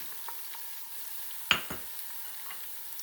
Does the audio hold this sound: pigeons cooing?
no